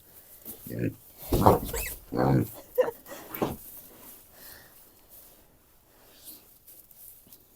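A few loud, harsh squeals from a young boar piglet close by, mixed with grunting, then quieter snuffling and faint background voices.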